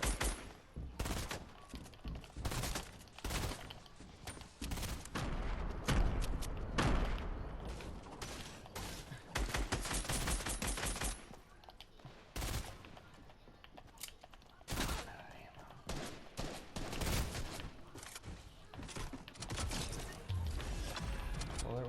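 Video game gunfire crackles in rapid bursts and single sharp shots, dense volleys alternating with brief pauses over about twenty seconds, with a faint voice at times.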